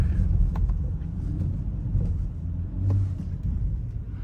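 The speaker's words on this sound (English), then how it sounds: "I'll just do a few more pulls for you guys so you can hear the exhaust and all that" BMW 335i F30 sedan with a modified exhaust pulling under acceleration, a steady deep low rumble from the cabin that swells and eases across the run with no talking.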